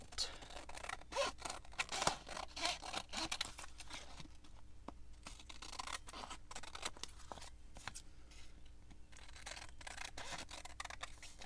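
Scissors trim paper for a handmade beach journal tag, with quiet, close snips and rustling paper in irregular bursts against faint background hiss.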